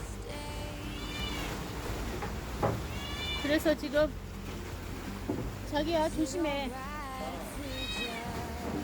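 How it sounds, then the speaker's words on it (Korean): A cat meows repeatedly in drawn-out cries, mixed with people talking and a steady low engine hum with rain in the background. "고양이가 여기 비가 오는데 올라왔어."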